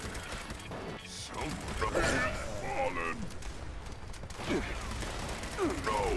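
Close-range hip fire from a pipe rifle in Fallout 76, with several gunshot bursts and mechanical clicks mixed with in-game sounds, a voice talking over the action.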